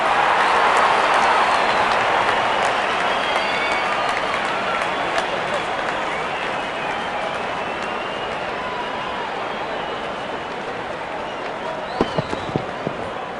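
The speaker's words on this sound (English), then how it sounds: "There's such a wonderful crowd in to watch their favorite players." A large stadium crowd at a video-game cricket match keeps up a broad, steady roar that slowly eases, with a commentator speaking over it and a few sharp knocks near the end.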